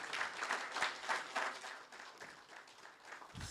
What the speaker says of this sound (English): Give a round of applause for our presenters.